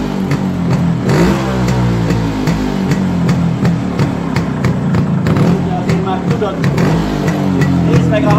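An old 1980s car engine revs loud and close through its exhaust, rising and falling repeatedly with a rough, pulsing burble, while people talk over it.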